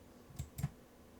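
Two quick, soft clicks about a fifth of a second apart, close and quiet.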